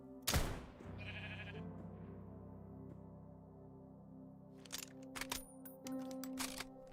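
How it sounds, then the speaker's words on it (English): Sheep in a video game bleat once, loud and close, followed by a faint game tone and scattered clicks and thumps from play, with quieter bursts of sound toward the end. "Oh, there's another sheep."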